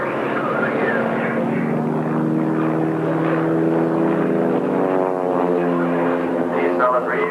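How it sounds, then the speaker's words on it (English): Propeller airplanes fly overhead at an aviation expo in 1987, their steady droning engine tones rising and shifting in pitch as they pass, loud and continuous throughout, with people talking over the engine noise. "These fellas really know how to fly those airplanes."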